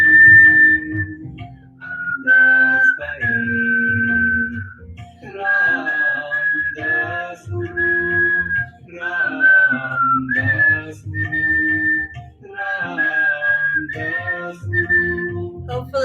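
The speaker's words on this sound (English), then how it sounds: "Just whistle. Whistle, make a melody." A person whistles a slow, wandering melody alone, long sustained notes with short pauses between phrases over sixteen seconds, loud and close, with faint low background sound beneath.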